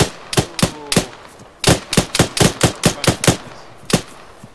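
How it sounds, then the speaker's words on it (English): Enemy soldiers' gunfire in a military video game rings out as loud, close bursts of rapid sharp shots, about a dozen in quick uneven succession with brief gaps. "They're shooting us."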